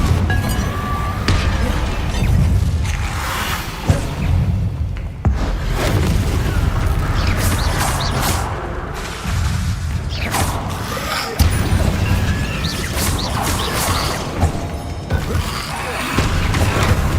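Confringo spell blasts in Hogwarts Legacy burst repeatedly in a busy stream of deep booms, crackling impacts and clinking debris, loud and continuous across the stretch with game effects layered underneath.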